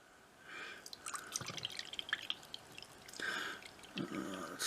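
Water pouring from a container into the tank of a small dollar-store ultrasonic humidifier, irregular splashing and trickling bursts close by, with no talk.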